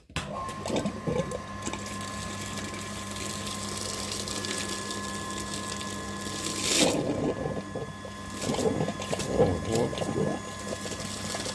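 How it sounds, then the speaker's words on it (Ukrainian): An electric flushing pump runs steadily while cleaning out the clogged heater radiator of an Opel Astra, a continuous watery whir and hum with gushing surges of liquid partway through, close by and without speech. "Включаємо насос, дивимося на манометр."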